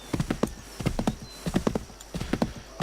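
Rhythmic clip-clop of horse hooves trotting at a steady pace in the video game Assassin's Creed 3, with bursts of quick hoofbeats repeating, fairly close and clear, no talking.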